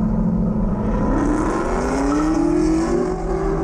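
A twin-turbo Camaro SS drag races at LS Fest West 2019, its engine loud and close, holding a continuous roar that climbs steadily in pitch as it accelerates hard.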